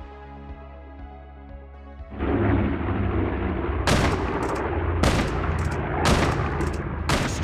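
Gunship gunfire in Call of Duty Mobile, a dense roar of continuous automatic fire with several heavy, sharp explosive bursts repeating about once a second over a sustained rumble, loud and up close with no talk.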